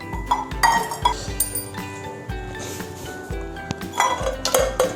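Metal camping cookware pots and pans for two people, including an 800 ml pot, clink and clatter together up close in a series of sharp metallic knocks and rattles, with no talking.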